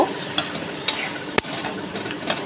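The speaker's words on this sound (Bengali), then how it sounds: "এইভাবে একটু নাড়াচাড়া করব" Potatoes and peas for a vegetarian aloo dum stirred in a pan on a gas stove over low flame, with a few sharp spatula taps against the pan over a soft, quiet background sizzle.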